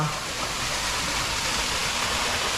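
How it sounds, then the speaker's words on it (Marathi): An artificial waterfall pours into a pond at a fish theme park, a steady close broadband rush of falling water with no voices. "आर्टिफिशियल वॉटरफॉल इथे क्रिएट केलेला आहे आणि खाली असं पॉन्ड आहे"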